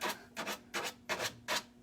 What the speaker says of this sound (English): I'm just taking a sanding pad and I'm going down, pushing down as I get to the edge